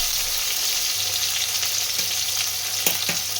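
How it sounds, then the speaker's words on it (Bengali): Potato pieces fry in oil rendered from fish, giving a steady close sizzle with a few soft stirring scrapes near the end. "যেহেতু আলু ভাজতে একটু সময় লাগবে, তার জন্য প্রথমে আলুগুলো একটু ভেজে নেব।"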